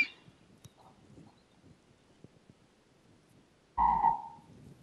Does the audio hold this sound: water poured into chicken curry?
no